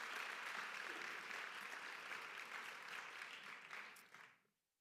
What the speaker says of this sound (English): Give Ms. Alam a round of applause.